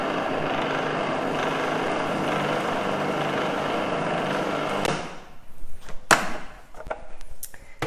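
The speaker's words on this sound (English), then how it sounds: "We're just going to blend that a tiny bit more." A blender mixing cupcake batter whirs steadily and densely, loud for about five seconds, then stops, leaving quieter clatter and scattered knocks.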